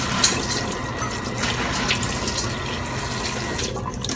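Tap water runs steadily into a sink as something is rinsed and washed, a continuous close splashing gush with no talking, while preparing stuffed bitter gourd with pork in a Cambodian village kitchen.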